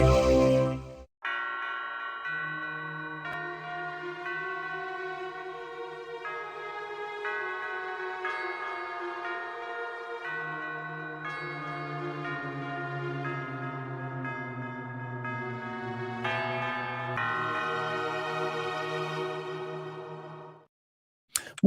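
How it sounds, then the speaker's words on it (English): A bell rings out in a podcast intro, sustained tonal chimes that hold and shift in pitch for about twenty seconds before cutting off, with no talking. "The bell is ringing."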